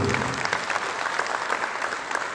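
Applause from an audience at a launch and fundraising event, a dense steady wash of many hands clapping close and loud throughout.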